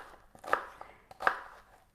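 A large onion being chopped on a board in a home kitchen while making creamy chicken and vegetable soup: two distinct knife chops about three-quarters of a second apart, with a few lighter taps between, close and clear, no talking.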